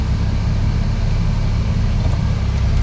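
A Nissan 240SX engine runs steadily at operating temperature, a continuous low rumble close by with no talk, holding an even level throughout.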